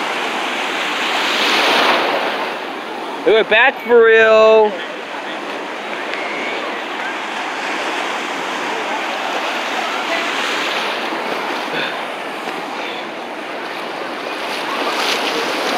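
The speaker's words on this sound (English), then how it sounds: "I can see the ocean waves from here." Ocean surf rolling in at Beauty Beach Park, a steady broadband wash of waves and wind that runs the whole way through, with a person speaking briefly near the start.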